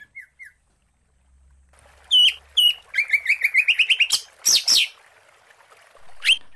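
A white-rumped shama sings up close, loud clear whistles and rapid chirping phrases in bursts, with brief pauses between phrases in otherwise quiet surroundings.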